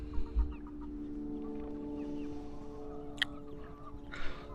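Chickens, including a large buff Brahma hen, clucking in a farm coop: several soft, close clucks and murmurs over a steady background hum, with a brief sharp click and a scuffle near the end.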